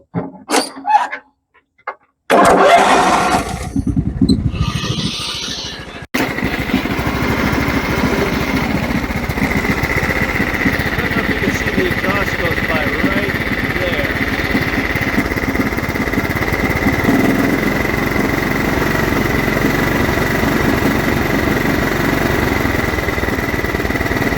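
A John Deere STX38 lawn tractor's Kohler 12.5 HP engine sputters and cranks a few times, catches, and settles into a steady, loud, droning idle that runs on without stopping.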